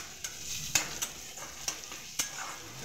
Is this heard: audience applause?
no